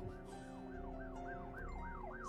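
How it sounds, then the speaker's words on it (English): An emergency vehicle siren wails outside, a steady rising-and-falling electronic tone cycling repeatedly at moderate distance over a low background rumble. "It's the third siren I've heard."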